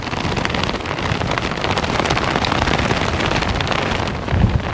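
Strong wind on a sub-zero winter summit, a loud continuous roar buffeting the microphone without letup, with a heavier thump near the end and no voices.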